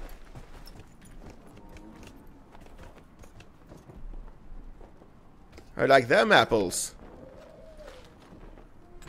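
Horse hooves clip-clop in Dragon Age: Inquisition, a short, loud run of hoofbeats mixed with bird coos, with someone talking before and after.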